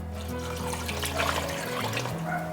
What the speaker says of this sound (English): Then 8 ounces of tomato sauce and 24 ounces of water.